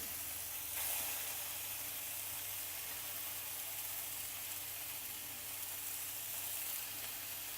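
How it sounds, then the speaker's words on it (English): Loud, continuous sizzling and hissing of peanut chicken skewers frying in a hot dry pan, steady and close for the whole stretch with a brief swell early on. "Then into our nice hot dry pan, and hear that sizzle."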